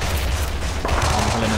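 Incoming gunfire in the WWII strategy game Men of War, an Axis advance at Kasserine Pass shooting from a trench: a short, dense burst of overlapping shots and rumbling impacts, loud and steady throughout.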